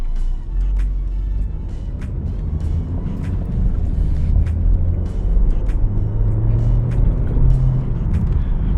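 A 2023 Hyundai Tucson with a 2.0 MPI engine and 4WD, driving in normal mode, gives a low, steady engine hum and road rumble from inside the cabin, with faint ticking and clicks over it.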